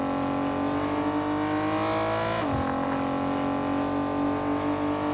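A Fortnite car's engine drones loudly and continuously, a steady in-game motor hum with a brief pitch dip midway as the vehicle shifts speed.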